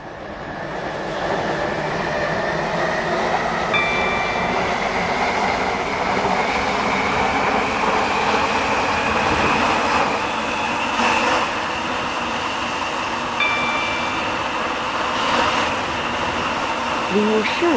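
Train running in the SCR railway game, a steady rolling drone with a rising tone throughout, with onboard announcements heard over it.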